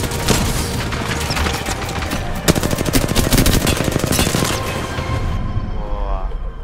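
Rapid automatic gunfire in the battle royale shooter Apex Legends, sustained loud bursts with dense rattling shots near the middle, trailing off toward the end; little talk over it.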